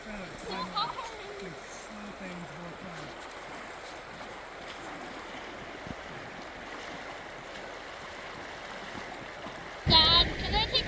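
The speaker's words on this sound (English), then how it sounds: "The current is so strong." Strong river current rushes in a steady, broadband wash, close and continuous, with a voice briefly over it early on and a louder splash or knock near the end.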